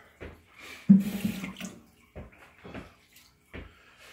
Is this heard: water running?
yes